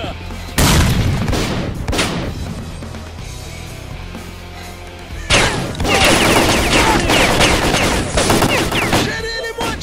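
Grenade blasts and rapid gunfire in S.T.A.L.K.E.R.: Call of Pripyat, with loud booms and dense volleys in two heavy bursts separated by a quieter stretch of scattered shots, and shouting voices mixed in.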